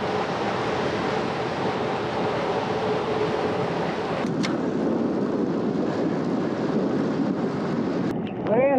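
Wind roars steadily across an outdoor microphone for the whole stretch, a dense rushing buffet that barely lets up, with a few faint whistling tones creeping in near the end.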